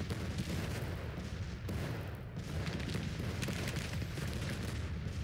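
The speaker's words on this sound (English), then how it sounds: "Okay, we've got some cannons here." Cannon artillery fires in the Civil War strategy game Grand Tactician: The Civil War, dense rumbling booms and crackling volleys rolling continuously at a fairly steady level, with no speech over them.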